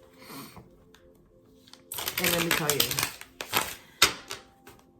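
Tarot cards shuffled by hand give a rapid, dense riffling clatter lasting over a second, followed by a few sharp taps, with a voice speaking briefly before and around it.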